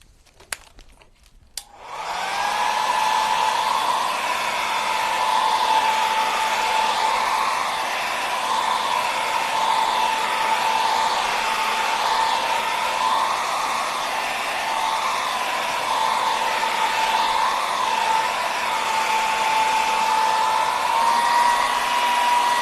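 A hair dryer blowing steadily on a mixed media canvas to dry it, switched on after a couple of clicks and then running as a loud, even whooshing hum close by throughout, with no talking.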